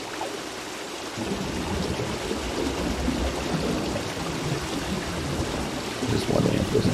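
Constant rushing water from a waterfall in the video game Outer Orbs, swelling a little louder partway through and again near the end, steady and close with faint voice-like activity underneath.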